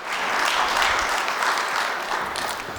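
A church congregation gives the boys a steady wash of applause, dense and even throughout, with no voices rising above it.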